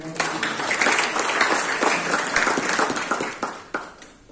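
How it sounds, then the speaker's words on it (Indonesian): A church congregation at a Sunday theological school service breaks into close, lively applause, a dense clatter of hands that stays strong for several seconds, then drops off quickly near the end. "Tepuk tangan sekali lagi"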